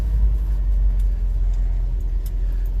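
A little truck's engine idles steadily nearby, a smooth, even low rumble with no revving and no voices.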